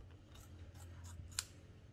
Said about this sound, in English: Use the scissors to cut it open.